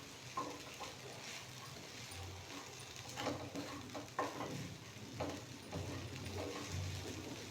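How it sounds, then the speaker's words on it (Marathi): Leftover chapati pieces with coriander being sautéed in a pan give a steady sizzle, with repeated scraping and stirring strokes of a spatula close by. "कोथिंबीर टाकून आहे ना छान असं परतून घेऊ थोडंसं"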